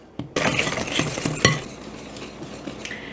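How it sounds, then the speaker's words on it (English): A spatula scrapes around a mixing bowl of gluten-free coconut oat cake batter, close and clattering, with a sharp knock against the bowl partway through and softer scraping strokes after. "Scrape down your bowl again."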